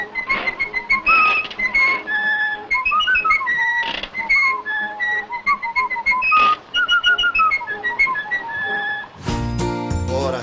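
Cheerful, melodic whistling of a bright tune, like a captain whistling happily, in an Italian dub of the Steamboat Willie cartoon, carried alone and close with a lively hopping rhythm, ending in a brief burst of brassy clatter.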